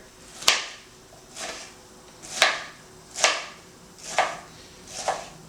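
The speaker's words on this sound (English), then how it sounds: "as I'm chopping, I'm trying to keep my fingers away from the sharp bit" Steady knife chops through pineapple on a cutting board, six sharp thuds spaced about a second apart, close and clear with no talking.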